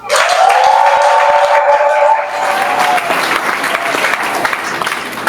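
Wedding guests break into applause at an official marriage ceremony, with a loud sustained tone at the start as the clapping rises and then carries on steadily, full and close.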